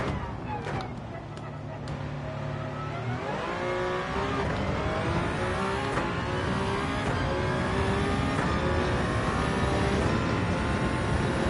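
A race car engine in Gran Turismo 7, played in virtual reality, roars steadily and loudly throughout, its pitch climbing through several rising gear sweeps as the car accelerates.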